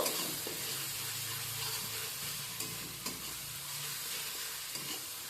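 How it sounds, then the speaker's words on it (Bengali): Ginger-garlic paste and onions being sautéed together over a medium-high flame for chicken dum biryani: a soft, continuous sizzle with gentle stirring scrapes and a few light clicks, fairly quiet and close. "মিডিয়াম টু হাই ফ্লেমে দিয়ে আমি দু মিনিট আদা ও রসুনের কাঁচা গন্ধটা চলে যাওয়া পর্যন্ত পেঁয়াজের সাথে কষিয়ে নিচ্ছি"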